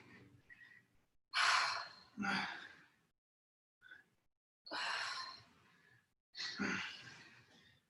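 Heavy, forceful breaths during a climbing training workout, five or six loud exhales and gasps separated by short quiet pauses, close to the microphone.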